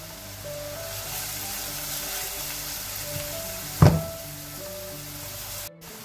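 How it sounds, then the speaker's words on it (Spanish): Garlic cloves sizzle in a pan with salted vegetables for rice, a soft steady frying hiss under a background music bed, with one sharp thunk near the middle. "Ahora vamos a añadirle un par de dientes de ajo."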